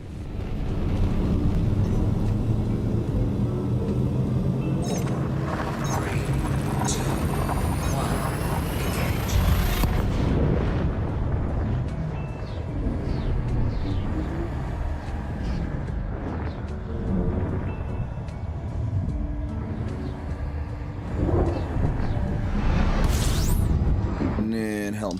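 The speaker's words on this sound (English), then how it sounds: "The big old mega thrusters of the Panther Clipper" In Elite Dangerous, a Panther Clipper's frame shift drive charges with a rising, swelling sweep over heavy engine drone, then its massive thrusters rumble loud and continuous as someone talks over the game.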